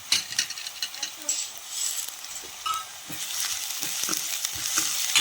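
Onion with ginger, chili and garlic paste frying in a pan, a close crackling sizzle broken by scraping, clinking stirring strokes.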